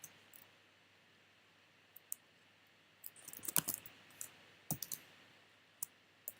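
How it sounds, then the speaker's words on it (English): Someone types on a computer keyboard in scattered bursts of close, crisp key clicks, sparse at first and then denser, in a quiet room. "Hit return, and then type in my first list item."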